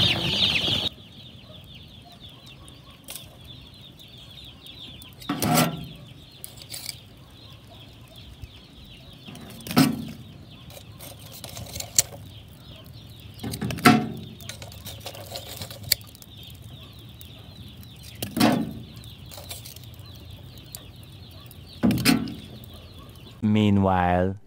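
Newly hatched chicks in a warm brooder box, with faint chirping and several short bursts of flapping or scuffling scattered throughout, one loud close burst near the end.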